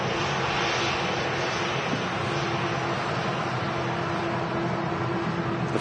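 An airliner departing Manchester Airport for Las Palmas gives a dense, sustained jet engine roar at steady loudness, fairly close, with no talk.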